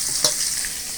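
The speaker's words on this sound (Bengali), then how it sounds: "বন্ধুরা, কই মাছগুলোকে খুব সুন্দরভাবে ভেজে নিই।" Koi fish (climbing perch) sizzle steadily in hot oil in a pan, with a brief stir or clatter near the start.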